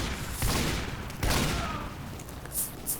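Ambassador revolver shots in Team Fortress 2 crack out as two sharp, close reports with a short decaying tail, followed by fainter game effects and distant clatter.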